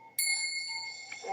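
Bell struck once with a clear ringing tone that sustains and slowly decays, a soft second touch near the end, heard alone.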